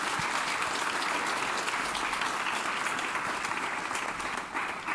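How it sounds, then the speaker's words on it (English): Audience applause for speakers on a panel at an environmental law conference, a full steady round of clapping from the room lasting several seconds, with no speech over it. "if everyone could join me in a round of applause for our speakers for this"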